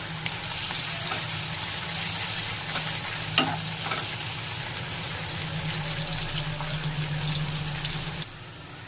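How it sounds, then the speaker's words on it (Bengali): Chopped onions frying in hot white oil in a pan for chicken maharani, a steady loud sizzle with occasional stirring scrapes and a brief clink, running continuously until the level drops near the end. "তেল গরম হয়ে গেছে, এবার আমি দিয়ে দেবো পেঁয়াজ কুচি। পেঁয়াজটা একটু ভেজে নেব।"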